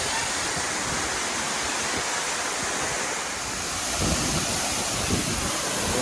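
Khun Korn waterfall in Chiang Rai roars as a loud, dense, constant rush of falling water heard up close, steady throughout with no voices.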